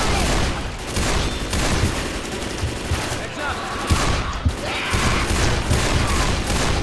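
Dense, rapid gunfire rattles almost continuously in Left 4 Dead 2 on a De_Dust 2 mod map, loud and close, with heavier booming shots around the four- and five-second marks and voices shouting over the barrage.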